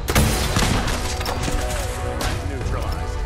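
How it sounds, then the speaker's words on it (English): A missile fires in the post-apocalyptic shooter game Fallout 4, a loud blasting burst with crashing impact and rumbling debris filling the short moment at close range. "Shoot a missile and miss that guy completely."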